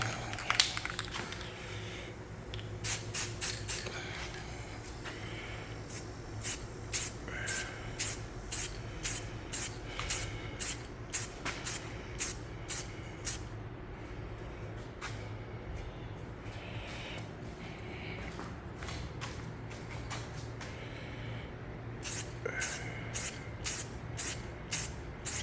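Light tint coat sprayed from an aerosol can onto Cadillac CT6 tail lights, steady hiss broken by rapid short spray bursts and rattling, close and fairly quiet against a constant low background hum.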